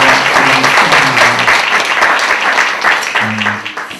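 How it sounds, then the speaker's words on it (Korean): A church congregation claps to welcome visiting guests during a Sunday worship service, sustained applause filling the sanctuary while low hummed or spoken voice tones sit underneath, the clapping easing slightly toward the end. "잠깐 일어나시면 저희들이 박수로 환영하고 축복하겠습니다"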